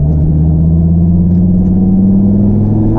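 A Dodge Viper ACR Extreme on the Nürburgring Nordschleife revs hard, its loud, steady engine note climbing in pitch from close by, with no talking.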